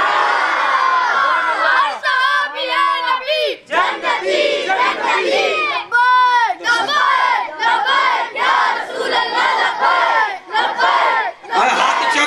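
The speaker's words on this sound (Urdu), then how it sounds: "تسی کتنے خوش نصیب ہو، سرکار کے نعرے لگا رہے ہیں" A large crowd at an urs gathering for Khwaja Gharib Nawaz chants religious slogans in loud rhythmic unison, repeated call-and-response bursts of many voices with brief pauses between each shout.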